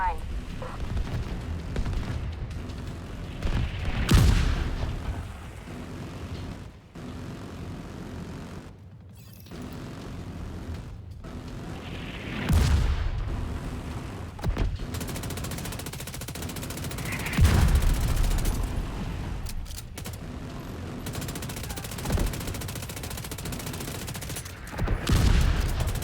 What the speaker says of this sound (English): The autocannon seems to be firing blind.